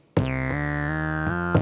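Synth bass line from a Korg Minilogue sequenced by a Novation Circuit Tracks on MIDI track 2, with loud sustained harmonically rich notes changing pitch about four times, played alone.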